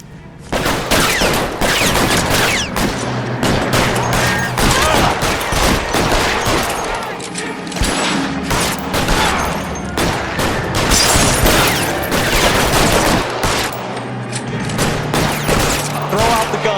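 Shootout gunfire in the video game L.A. Noire: loud, sustained volleys of overlapping shots and rapid bursts that go on almost without pause, with brief dips between the heaviest barrages.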